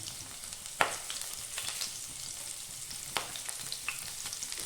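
Ginger, green chillies and curry leaves frying in a pan give a faint, steady sizzle, broken by a few sharp crackles or spoon knocks, with no talking.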